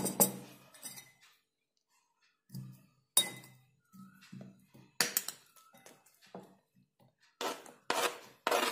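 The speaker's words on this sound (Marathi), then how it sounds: "आता हे बटाट्याचे काप आपण एका बाउलमध्ये टाकणार आहोत।" Sliced potato pieces for homemade salted chips tumble and clink into a bowl in several separate bursts, with short scraping rubs between them and quiet gaps, close by and with no talking.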